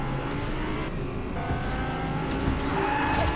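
A Lamborghini in the Fortnite video game drifts with a sustained squeal of tires over a steady engine drone, with repeated high screeches across the clip and no talking.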